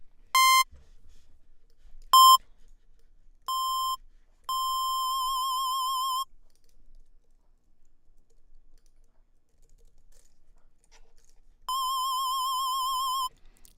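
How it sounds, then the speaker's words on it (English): A synth lead built in Native Instruments Massive plays sustained tones set to its maximum vibrato rate and depth, rapidly wobbling in pitch; short plain test notes come first, then two long warbling held notes separated by silence. "if this is the max amount of depth and rate of vibrato I want on my lead"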